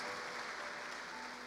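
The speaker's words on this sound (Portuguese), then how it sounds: "Dê um aplauso a Ele." Church congregation applause during a celebration service, a steady wash of clapping at moderate level throughout.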